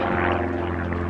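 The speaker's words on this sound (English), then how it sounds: "Look, there's always a plane every time I get here." Propeller airplane passing overhead at an arrival spot outdoors, a steady loud droning hum with a strong low tone running through the whole short stretch, no talking.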